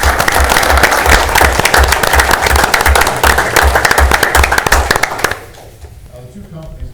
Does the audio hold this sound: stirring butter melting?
no